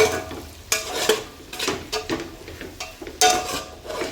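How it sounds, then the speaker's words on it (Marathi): Masala sautéing in a pan for Khandeshi masala rice, with repeated scraping and clattering stirs against the pan over a low sizzle, close up and with no voices. "परतून घेऊया आपण"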